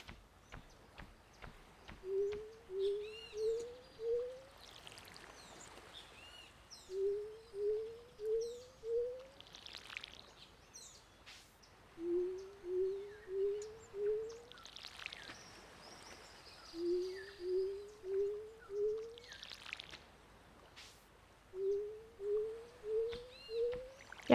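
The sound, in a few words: crow calling in a video game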